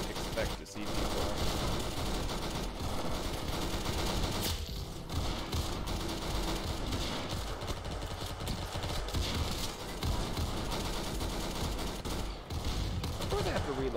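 Rapid automatic gunfire in the video game Arsenal, dense rattling bursts firing almost nonstop with brief gaps, loud and close, with game sounds mixed in.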